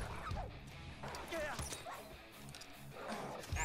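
Dogs in the Far Cry 4 video game yip and bark in short bursts, with whimpering sounds and a crash, mixed with game noise while someone talks over them.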